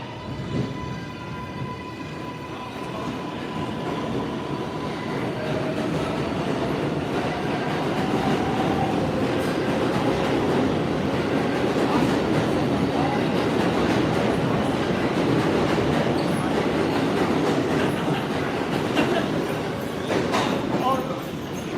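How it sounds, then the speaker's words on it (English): A New York City number 7 subway train leaving a Manhattan station rumbles steadily, a continuous heavy roar with faint squeals, while voices murmur in the background. "Number 7 train is leaving the station now."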